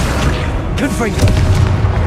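Blasting-spell explosions in the Hogwarts Legacy video game boom low and heavy amid dense game noise, with voices and chirpy spell effects layered over the rumble.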